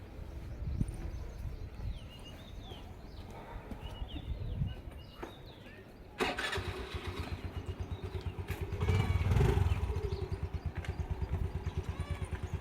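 A motorcycle engine starts up outdoors and settles into a steady, rhythmic idle that continues to the end, with birds and faint household sounds around it.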